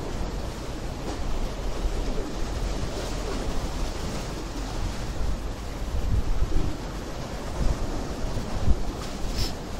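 Strong wind and crashing sea waves at Bournemouth Pier on a blustery day, a continuous loud roar of gusts and surf with heavy wind buffeting on the microphone.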